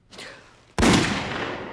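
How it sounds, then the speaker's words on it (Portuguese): A single gunshot sound effect from an episode of The Office cracks sharply after a brief soft rustle, then rings out into a decaying echo. "E então leva um tiro."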